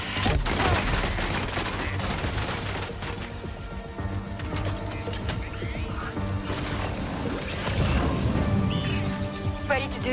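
Dense gunfire rattles almost without pause in the Death Stranding 2 video game, mixed with mechanical clanks and crashes. The barrage is loud and continuous for about ten seconds.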